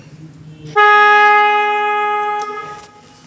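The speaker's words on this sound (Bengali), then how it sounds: "হর্নটা দেখেন" Horn of a Bajaj Pulsar AS motorcycle sounding once, a loud steady tonal blare held for under two seconds after a short quiet lead-in, then cut off.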